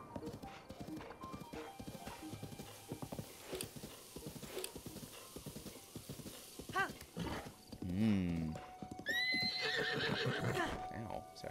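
A horse in The Legend of Zelda: Breath of the Wild whinnies and neighs amid rhythmic clip-clop hoofbeats, close and clear over game ambience, while a person speaks intermittently over it.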